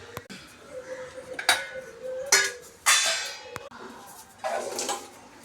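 Boiled cowpea beans are drained through a strainer into metal vessels: loud clanks and clatters come in separate bursts between rushes of pouring water, close by and without speech.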